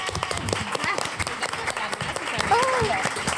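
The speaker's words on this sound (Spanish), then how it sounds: "Que es un aplauso a Scorpio." An audience applauds to welcome the guest Scorpio onto a podcast stage, a brief burst of steady clapping with voices and a few whoops mixed in.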